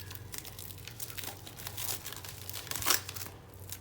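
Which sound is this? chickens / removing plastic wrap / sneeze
removing plastic wrap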